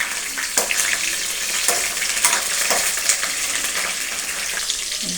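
Green chillies and curry leaves fry in hot oil with a steady close crackling sizzle, broken by several sharper spits and pops as they hit the pan.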